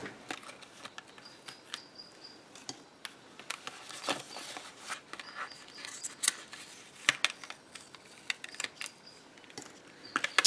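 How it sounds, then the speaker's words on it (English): A Big Shot die-cutting machine cuts a paper circle, giving faint, scattered mechanical clicks and soft ticks as it is cranked through, with no voices. "I'm going over to my Big Shot and I'll cut that circle out."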